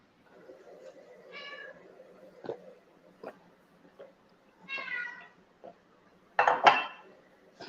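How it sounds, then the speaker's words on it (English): A whiny house cat begging for snacks in a kitchen meows several times at intervals, the last cry loudest, among light clinks of dishes and cutlery, with faint speech in the background. "That's my whiny cat, yes."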